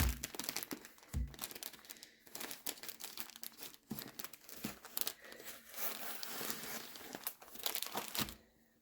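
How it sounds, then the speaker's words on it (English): A delivered parcel is cut and torn open close up, with continuous crinkling of packaging, rough tearing, scattered cracks and dull thunks of handling; no speech. "So I'm going to cut this open first and we'll see what I've got."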